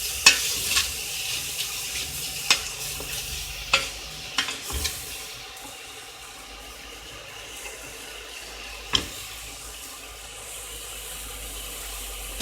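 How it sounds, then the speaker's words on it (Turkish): Grated vegetables sauté in a pan for a celery and lentil soup: a steady soft sizzle runs throughout, broken by a few sharp clicks of a stirring utensil against the pan, with no one speaking. "rendelemiş olduğum sebzelerimi güzelce soteliyorum"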